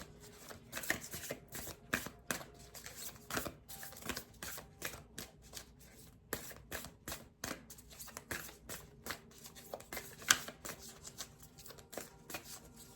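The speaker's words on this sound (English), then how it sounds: "it's a good shuffle" Tarot cards being shuffled by hand, a run of crisp riffling bursts and taps repeated in an uneven rhythm, close and fairly quiet, with no talking.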